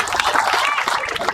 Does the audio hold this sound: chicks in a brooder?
no